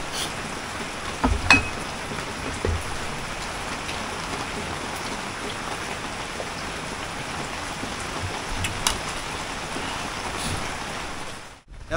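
Steady rain falls outdoors at lunchtime, a dense, even hiss with a few louder drops and splashes, continuous and fairly loud throughout before cutting off abruptly at the end.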